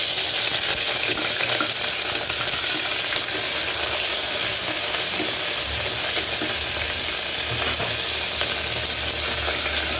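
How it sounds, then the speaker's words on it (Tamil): Green chillies, shallots and ginger garlic paste frying in oil for tomato rice, a loud continuous sizzle and hiss with stirring noises throughout, no talking. "பச்சை மிளகா 2 வெங்காயம், சின்ன வெங்காயம் போட்டுக்கலாம்."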